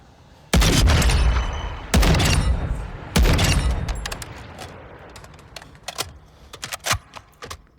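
Walther WA2000 sniper rifle in Call of Duty Modern Warfare II fires three loud, sharp shots in quick succession, each with a long decaying tail, followed by fainter mechanical clicks and clacks of handling.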